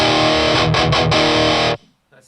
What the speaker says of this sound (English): Let's put some distortion.